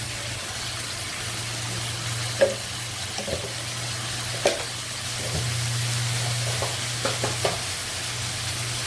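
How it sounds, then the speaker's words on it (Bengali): Spices cooking in a pan with chili powder, coriander powder and salt, a steady low sizzle under scattered scraping clinks of a spoon stirring the mixture, close and moderately loud with no talking. "মশলা দিয়ে শেষ, আমি এখন কষিয়ে নিব ভালো করে"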